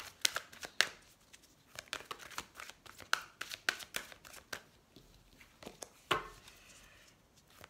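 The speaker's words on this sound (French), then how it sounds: "on prend juste quelques cartes pour avoir des messages avec les anges de l'amour" Tarot or oracle cards shuffled and drawn by hand for a love reading: a quick run of crisp, papery slaps and riffles, irregular and fairly close, with short gaps between bursts.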